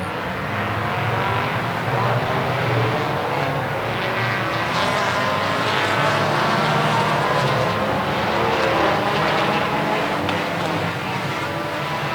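Race cars racing on a track at an event, a steady roar of several engines blending into one continuous drone heard from some distance, with no clear talking.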